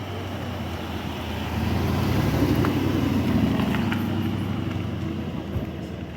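An Aston Martin Vantage F1 Edition Roadster passing at night in l'Estartit, its engine note swelling from a low hum to a moderate rumble at mid-pass, then easing off over a faint roadside background.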